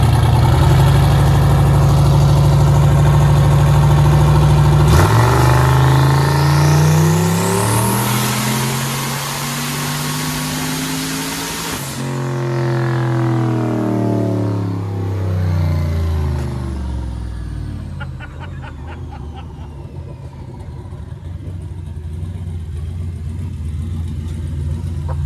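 Boosted car engine on a dyno, loud and close, droning steadily, then rising and falling through sweeping revs and gear changes before winding down over about twenty-five seconds, with no talk.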